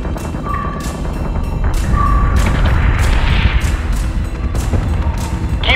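Ship guns fire in the Battlestar Galactica Deadlock space combat game: repeated heavy booms and thuds at irregular intervals over a dense, rumbling battle background, with no talk.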